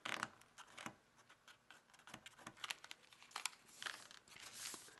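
Sheets of paper being folded into an origami heart box: close, crisp crinkling and creasing in short uneven bursts, with no talking.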